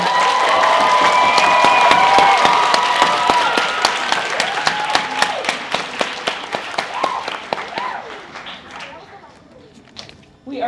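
Applause at a student lab coat ceremony, dense clapping and cheering that gradually thins into scattered individual claps near the end, with some voices mixed in.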